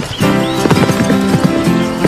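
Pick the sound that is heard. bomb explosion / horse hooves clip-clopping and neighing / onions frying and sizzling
horse hooves clip-clopping and neighing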